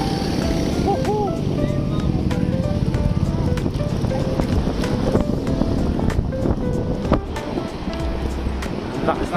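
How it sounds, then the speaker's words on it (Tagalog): Strong wind roars against the microphone of a cyclist riding near a bridge and waterway, a constant loud rumble with scattered clicks and a brief voice in the background. "Lakas ng hangin."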